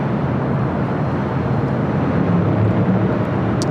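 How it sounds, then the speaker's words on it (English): Spirit Airlines Airbus A320neo arriving at LAX from Pittsburgh, heard as a steady, loud broadband jet roar with low rumble that holds evenly throughout, no voices present. "Next arrival, Spirit Airlines Flight 653, coming in from Pittsburgh, Pennsylvania"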